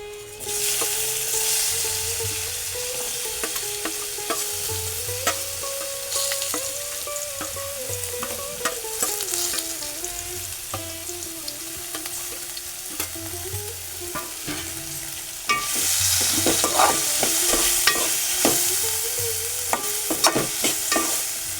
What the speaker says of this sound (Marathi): आपण परतून घेऊया